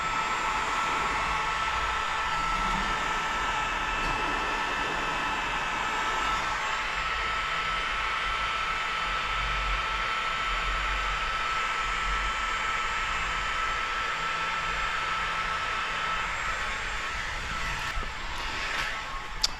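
A heat gun blows steadily and loudly while heat sealing the edge of paint protection film on a car, a constant airy roar lasting throughout with no talk.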